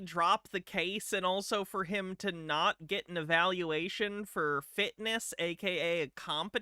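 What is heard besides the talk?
No everyday noises stand out.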